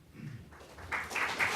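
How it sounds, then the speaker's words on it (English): Audience applause at a Village of Pelham election candidate forum, a short, moderately faint patter of clapping from a modest crowd in a hall that swells toward the end. "Let's hold the applause. It takes up time."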